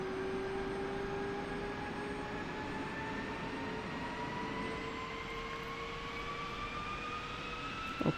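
An F-16 jet engine in the flight sim DCS World is throttled up from idle, giving a steady turbine roar with a high whine that slowly climbs in pitch, moderately loud and alone.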